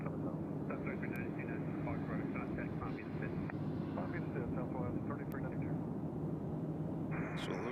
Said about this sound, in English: then we have Southwest Flight 222 coming in from Pensacola. That is a Boeing